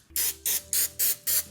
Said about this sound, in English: you have to spray this from like 5 different directions